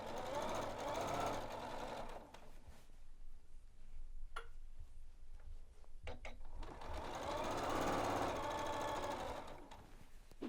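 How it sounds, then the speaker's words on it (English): Janome sewing machine topstitching a casing: a close, fast, rattling stitch run, then a pause with a few clicks and taps, then the machine starts up again and stitches steadily to the end. "then I'm going to top stitch all the way around"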